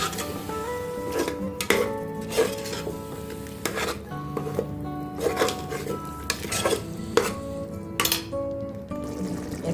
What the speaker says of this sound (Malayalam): ഇതിലേക്ക് ഇനി അരച്ച് വെച്ച പുതിനയുടെയും മല്ലിയിലയും പച്ചമുളകും ചേർത്ത് ഇതിൻ്റെ ഒരു പച്ചമണം പോകുന്ന വരെയൊന്ന് വാട്ടി കൊടുക്കും